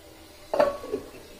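A lid set down over a pan of fish on the stove, giving a single short metallic clink with a faint rattle as it settles, close by and otherwise quiet.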